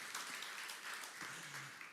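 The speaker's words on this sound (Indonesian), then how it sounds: "Kita beri tepuk tangan buat Tuhan kita" Faint, distant applause from a church congregation, a soft wash of many hands clapping that fills the short stretch evenly at low level.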